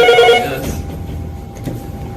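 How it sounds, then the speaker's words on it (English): An electronic telephone bell rings loudly in a prison lobby, one short burst that cuts off quickly and leaves faint room noise. "The phone was ringing and there was no one in here"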